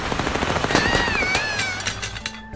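Rapid gunfire in the video game Little Misfortune, a quick burst of sharp, close shots over background game music with a whistling tone, no speech.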